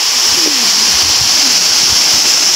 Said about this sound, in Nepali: छङ छङ छङ छङ पानी बगिरहेको देख्नु साथीहरू